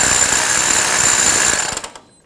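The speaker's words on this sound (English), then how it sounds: "use a socket or wrench that fits and tighten them up" Ratchet socket wrench tightening 15 mm mounting nuts on the outer tie rod sleeve of a 2000-2005 Ford Excursion, a loud continuous close-up mechanical ratcheting that slows into a few separate clicks and then stops.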